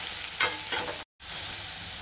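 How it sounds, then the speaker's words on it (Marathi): Steady sizzling of onions sautéing in a pan with a little salt until reddish-brown, with a couple of stirring scrapes and a brief silent gap midway; no voices. "लालसर रंग येईपर्यंत कांदा छान परतायचा."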